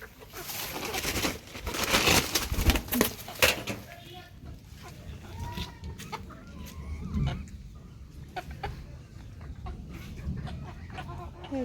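Hens cluck amid a dense rustle of farmyard noise, loudest early on and quieter later.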